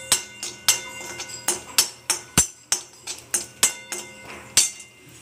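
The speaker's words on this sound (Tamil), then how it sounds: "போட்டுட்டு லைட்டாக கிண்டி கொடுங்க." Vadagam stirred in a cooking pan gives a steady run of sharp clinks and scrapes, about two or three per second, close and fairly loud, with no talking.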